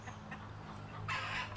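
Chickens at a monastery cluck faintly in the distance, with a brief brighter squawk partway through over a low background hum.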